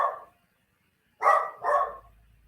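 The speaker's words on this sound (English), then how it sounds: "I have a dog in the background in case you haven't noticed." A dog barks in the background of a home call, a single bark, a pause, then two more in quick succession, moderately loud and alone.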